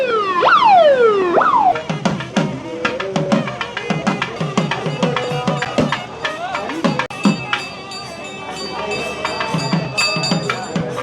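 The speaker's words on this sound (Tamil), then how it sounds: "திடீர்னு ஒரு ஆம்புலன்ஸ் வந்துட்டு" An ambulance siren on Nainativu island near a school passes loudly, sweeping down in pitch twice at the start, then gives way to a busy crowd with clatter and chatter from people around.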